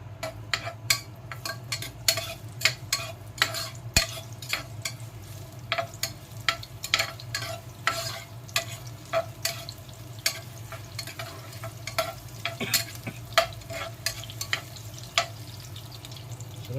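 Onions sautéing in oil for native chicken soup, a steady close sizzle with frequent sharp scrapes and taps of a spatula stirring in the pan throughout.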